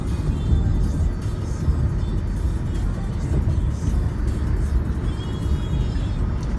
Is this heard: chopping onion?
no